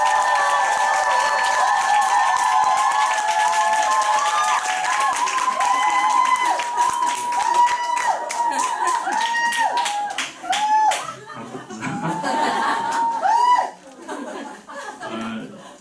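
Clapping and cheering from the audience at a Nu Skin Korea center joint meeting as a speaker is welcomed to the stage, a steady loud crowd roar with scattered claps, tonal shouts and voices throughout.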